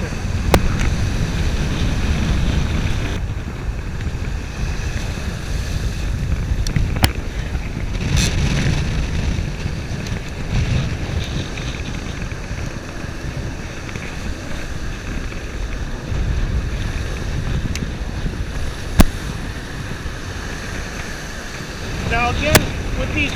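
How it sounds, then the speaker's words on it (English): Strong wind buffets the microphone in a steady roar on a beach while surf casting, with gusty surges and rushing water beneath it. "I'm hoping that this wind lets up just a little bit."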